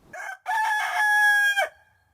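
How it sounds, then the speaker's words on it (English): A rooster crows once, a loud, close cock-a-doodle-doo with a brief opening note and a long drawn-out final call, then silence. "The French hen actually is a domestic hen, Gallus domesticus."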